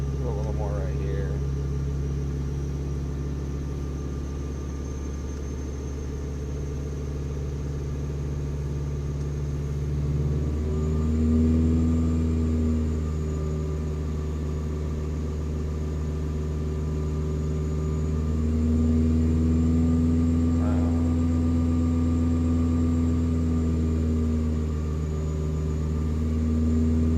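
A car fitted with a Woolman 2.5L engine, its rails repaired, runs steadily at operating temperature, giving a close, low, even drone that swells gently in pitch a few times as revs rise.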